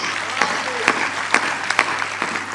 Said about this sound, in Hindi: एक बार तालियां उठा दीजिए